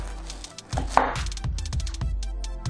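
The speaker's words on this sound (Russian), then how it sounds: "Разрезали пополам, берем, переворачиваем, чтобы было удобно, и отрезаем." A knife cuts through a halved cabbage on a cutting board, giving a series of crisp, crunchy chops and taps close up, with no talking.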